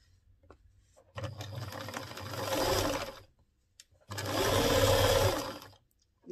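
A sewing machine stitches a skirt hem fitted with horsehair braid, running in two steady bursts of about two and three seconds separated by a brief pause, close and fairly loud with no talking.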